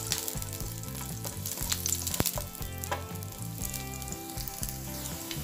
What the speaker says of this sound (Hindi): इसे हम आधे मिनट तक मध्यम आंच में पकाएंगे ताकि जो मिर्च और लहसुन का जो रंग है वो थोड़ा सा बदल जाए